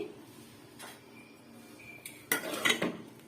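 A metal spoon stirs toor dal and fenugreek leaves in a pot on the stove, starting with a few faint scrapes and then turning into a louder burst of clanking and scraping against the pot's sides.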